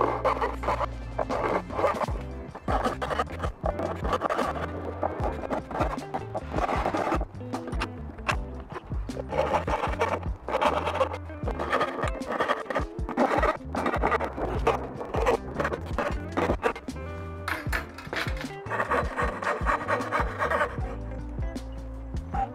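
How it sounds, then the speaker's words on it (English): A coping saw cuts waste wood from dovetails for a mitered-corner jewelry box, close rasping back-and-forth strokes in a steady rhythm running throughout with no talking. "taking all this material out with the coping saw is going to make the most sense and just be a lot faster"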